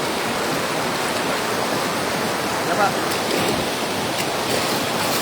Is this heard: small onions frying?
no